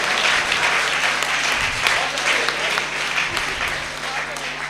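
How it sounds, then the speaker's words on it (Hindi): Audience at a Hindi poetry recital breaks into sustained, dense applause, many hands clapping steadily for several seconds, with a voice speaking briefly underneath. "खुलकर तालियां बजा सकते हैं आप लोग"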